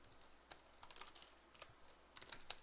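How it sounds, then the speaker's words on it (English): Quiet typing on a computer keyboard while writing Java game code, a short run of light irregular key clicks in clusters, close and soft, with no talking. "I guess I might as well type it"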